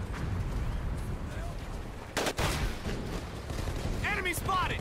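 Gunfire in the WWII Pacific shooter Medal of Honor Pacific Assault, during a last stand against a banzai charge: a loud shot cracks out midway over a constant battle din, with shouting voices near the end.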